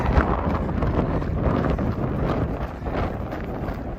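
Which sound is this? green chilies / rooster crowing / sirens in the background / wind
wind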